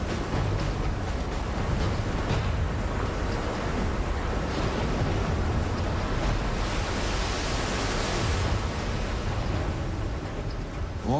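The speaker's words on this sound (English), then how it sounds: "These hyper-hurricanes would generate waves the height of buildings." Massive hurricane-driven ocean waves crash in a dense, unbroken roar of surf and wind, loud and constant throughout with a brief swell of spray near the end.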